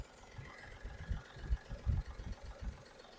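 A 2016 Mahindra KUV100 K8 diesel engine idles smoothly and quietly. It gives a low, even, rhythmic throb heard up close with nothing else present.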